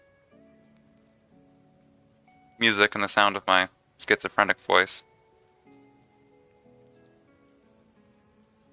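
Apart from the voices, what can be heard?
background rain and critters ambience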